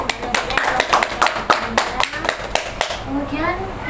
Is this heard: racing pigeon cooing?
no